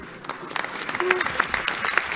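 Applause breaking out in the French parliamentary chamber, scattered claps building into a fuller round, with voices speaking over it.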